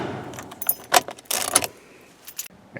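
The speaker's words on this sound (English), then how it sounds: "Turn your key off." Car keys jangle and rattle in the ignition of a Toyota Corolla as the key is turned off, a few short bright metallic clinks close to the listener.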